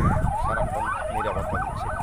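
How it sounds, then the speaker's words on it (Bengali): A Bangladesh police patrol car's siren wails up and down in rapid sweeps near Patenga beach in Chattogram, loud and close over steady traffic rumble. "বাংলাদেশ পুলিশের গাড়ি"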